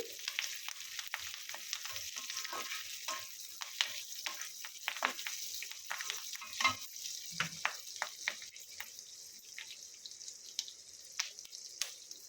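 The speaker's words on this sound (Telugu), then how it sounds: "ఎండుమిరపకాయలు, ఇంగువ, పచ్చిమిర్చి, కరివేపాకు ఇవన్నీ బాగా వేగనివ్వాలి." Dry red chillies, asafoetida, green chillies and curry leaves frying in hot oil for a tempering, a steady close sizzle broken by sharp crackles and pops.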